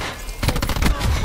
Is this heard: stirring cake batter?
no